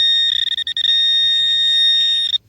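A Minelab Equinox 800 metal detector sounds a sustained high electronic tone for about two seconds over a target buried in the sod outdoors, with faint low rustling beneath.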